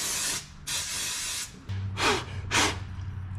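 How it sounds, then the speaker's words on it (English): Several sharp hissing bursts of brake cleaner sprayed onto a Nissan Titan water pump part, two short blasts then two more, close and loud, with a low hum underneath. "I'm going to brake clean some of that off of there"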